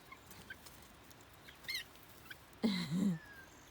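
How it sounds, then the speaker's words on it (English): Young rooster and chicks giving a few soft clucks and chirps, sparse and close, with one louder clucking call near the end over a quiet background. "And that's a rooster for sure."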